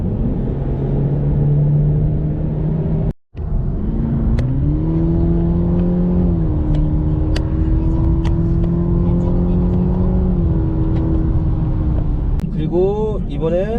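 A Cadillac CT5 cruising in tour mode gives a steady, smooth engine drone and road rumble that rises slightly in pitch, with a brief dropout early on and speech over it.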